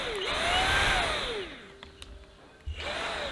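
Dreame V11 cordless vacuum cleaner motor whining as it runs in continuous cleaning mode, a steady high whir with pitch sweeps that drops away mid-clip, then starts up again near the end, with no talking.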